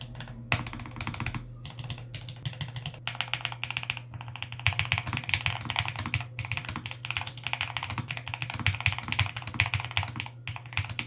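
Rapid typing on a mechanical keyboard with nano switches, deep thocky keystrokes clattering in a steady stream over a low constant hum, close and fairly loud.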